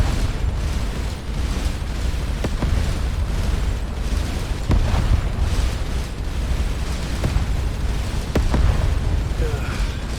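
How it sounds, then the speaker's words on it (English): A spaceship breaks apart in a chain of explosions during combat in the space game Starcom: Unknown Space: a continuous loud rumbling roar with sharp bursts and booms popping through every couple of seconds. "Now their ship's starting to break apart."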